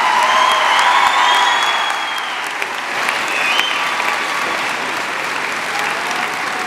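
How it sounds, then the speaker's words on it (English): Audience at an undergraduate commencement ceremony applauding, a dense, loud wash of clapping from a large crowd that eases slightly after the first couple of seconds and continues steadily. "thank you again for your heartfelt applause"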